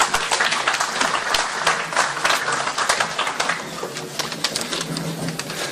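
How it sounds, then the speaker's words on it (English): Applause from an audience greets a speaker stepping onto the stage at a Quds Day gathering in Sydney. The clapping is dense, steady and fairly close, with a little chatter mixed into it. "Please welcome him to the stage with a round of applause."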